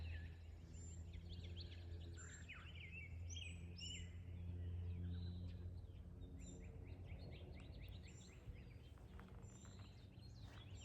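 Birds chirp and call in a yard in late April, a steady scatter of bright tweets over a constant low outdoor hum, moderately distant with no talking.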